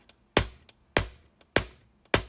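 Four sharp taps on a glass desk at a steady, even pace, each followed by a softer ghost tap, close and crisp.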